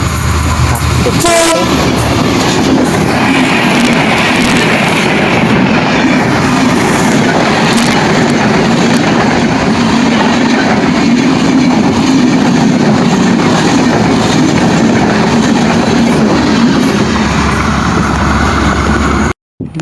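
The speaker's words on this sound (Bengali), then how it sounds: "গান বলতে বলতে ট্রেন চলে এসেছে, একটু সরে দাঁড়াই।" A loud train rumbles past close by in rural Bangladesh, its horn sounding near the start, wheels clattering continuously for nearly twenty seconds before cutting off abruptly.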